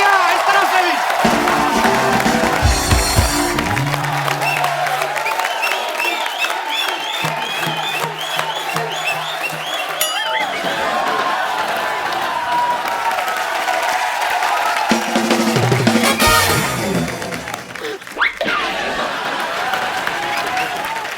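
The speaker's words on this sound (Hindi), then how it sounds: "दोनों के लिए जोरदार तालियां इस तरफ से भी" A studio audience on The Kapil Sharma Show claps and cheers for guests, with sustained loud applause, scattered whoops and some laughter, mixed with background music and brief voices.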